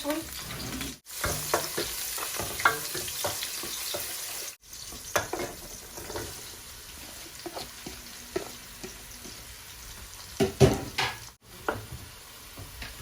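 Cinnamon, ginger and garlic frying in a hot pan give a steady close sizzle, broken by stirring scrapes and a few sharp clinks of a utensil against the pan.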